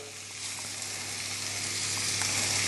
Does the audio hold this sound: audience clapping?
no